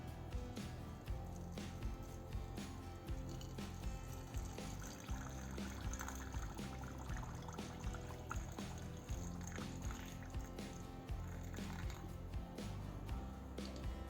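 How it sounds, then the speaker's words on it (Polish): Prepared water trickles and pours in short bursts into jars of rice and meat, with faint clinks and handling noises, quiet and close. "Słoiki zalewamy teraz przygotowaną wodą."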